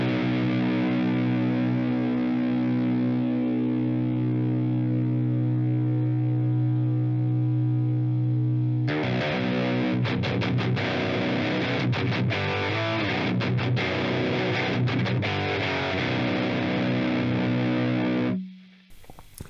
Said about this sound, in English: Let's put a distortion in front of it.